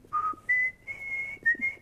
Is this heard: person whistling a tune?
yes